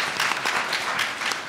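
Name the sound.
audience applause for Society of Illustrators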